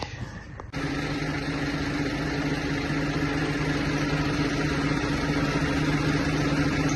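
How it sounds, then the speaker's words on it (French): A tractor engine idles steadily while pallets are loaded, a constant low mechanical hum with a faint tonal drone running unbroken and moderately close after a brief quieter start. "on est en train de charger ça avec le tracteur"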